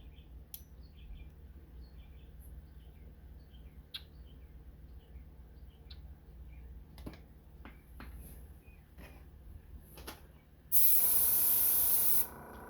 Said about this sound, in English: Let me clean the airbrush.